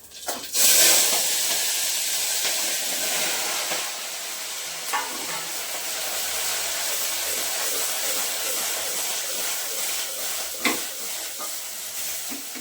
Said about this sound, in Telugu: ఇవన్నీ కూడా మనం ఆయిల్లో నార్మల్గా తాలింపులో వేసుకోవాలి ఇలా